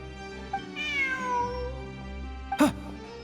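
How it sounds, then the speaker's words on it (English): A cat in the game Ruins Exploration lets out a drawn-out meow, then a short second call a moment later, fairly close over a low ambient hum, with no one speaking. "Look, a cat."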